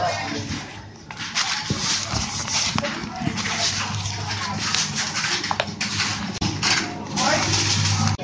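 A dog barks and whimpers close by amid shuffling movement, with people talking over it throughout.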